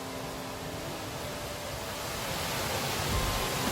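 Three-tiered waterfall on the trail up Gombaeryeong, Jeombongsan, roars as a continuous broad wash of falling water, near and even, swelling slightly toward the end, with no voices.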